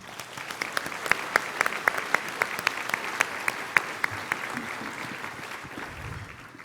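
A room of people at a community heroes breakfast gives a round of applause, moderate and steady with sharp individual claps standing out, continuing evenly before thinning near the end.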